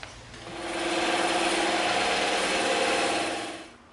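A bandsaw with its table removed cuts through a block of EVA foam for a prop axe, a steady loud rasping whir that rises in, holds for about three seconds, then winds down alone.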